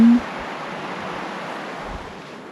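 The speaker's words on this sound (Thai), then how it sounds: "ได้ยินเสียงน้ำไหลผ่านนะคะ แบบแม่น้ำตรงนั้น" River water flowing past a lodge in Tibet within view of Everest on a quiet morning, a steady broadband wash of moving water, fairly close and even, heard alone with no voices.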